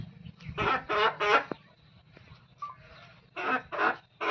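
Peru cross hens cluck in short bursts, with a cluster of three calls, a pause with faint scratches, then three more clucks, close by and with no talking.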